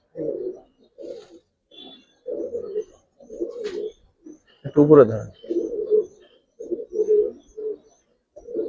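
An old-breed Giribaz pigeon coos in a loft, with short repeated throaty coos in a steady rhythm close to the recorder. Someone briefly speaks partway through.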